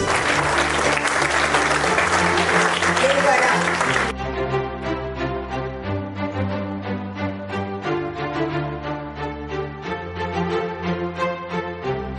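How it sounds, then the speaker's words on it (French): Parents at a national French spelling championship stand and applaud as the champions make a formal entrance: a loud, dense burst of clapping at first, then the clapping continues under music. "on va vous demander de vous lever pour applaudir nos champions"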